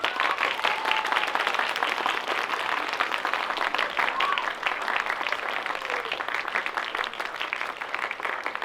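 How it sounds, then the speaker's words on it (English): An audience at a high school students' film screening and filmmakers' Q&A claps steadily in a continuous, moderately loud round of applause with faint voices mixed in. "Please give them a round of applause."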